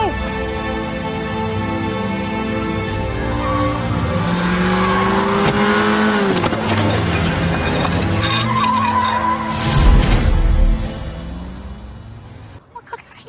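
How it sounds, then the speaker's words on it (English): A car roars in and screeches near a man, engine surging and tyres skidding loudly and close, then a sharp impact-like burst before it fades; voices and dramatic music are mixed in. "That car was going to kill you"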